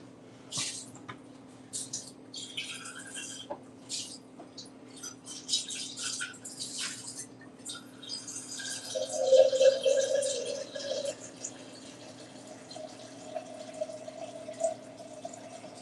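Water from a tap runs and trickles into a container, with a steady pour in the middle and clinking and handling noises around it, heard fairly close in a quiet room.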